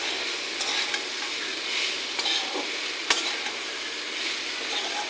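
Flattened rice pulao with soaked raisins stirred in a hot pan, a continuous close sizzle with soft scraping strokes and one sharp spatula tap against the pan, no talking.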